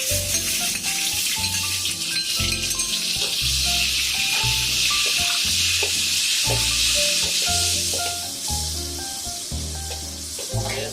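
Salted fish fries in oil in a wok for pork belly with salted fish, a loud, steady hissing sizzle up close with irregular scraping stirs throughout, easing slightly near the end.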